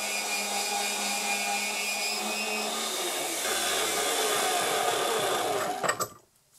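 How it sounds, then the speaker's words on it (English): A bandsaw cuts through steel stock held in a collet block, giving a loud, steady, continuous grinding whine with a low rumble that fades out as the cut finishes and the machine winds down near the end. "cut it off the rest of the stock using the bandsaw"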